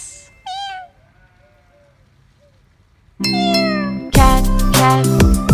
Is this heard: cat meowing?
yes